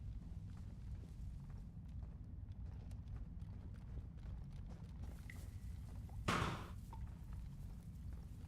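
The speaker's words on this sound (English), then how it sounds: "Footsteps?" Footsteps in the survival video game DayZ thud at a steady pace under a faint ambient hum, with one louder impact near the end.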